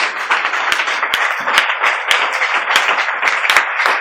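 A church congregation claps loudly together to acclaim the Lord during a sermon, a dense crowd applause with sharp individual claps standing out in a quick irregular rhythm, with no voices above it.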